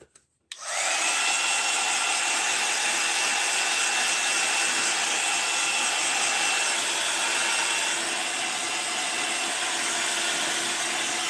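A heat tool switches on and blasts continuously, a steady hissing, whirring airflow held close to the microphone while drying wax crayon on an art journal page, with no speech.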